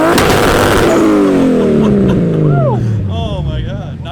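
A Nissan S13 with a 1JZ engine roars loudly and winds down from a high rev, its pitch sliding steadily lower, while excited voices call out over it near the end.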